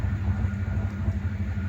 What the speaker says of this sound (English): Here comes this train again.